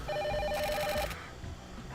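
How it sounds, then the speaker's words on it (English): A telephone rings in The Silver Case video game, with a rapid electronic trill in short repeated pulses over a low background score that ends abruptly after about a second. "Wait, why is someone calling me?"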